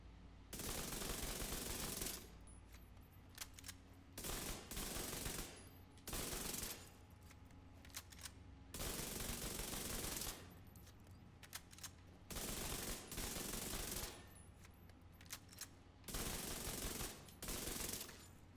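Dark Winter high-end SMG in The Division 2 firing in long, loud automatic bursts separated by short pauses, repeated throughout with no talk.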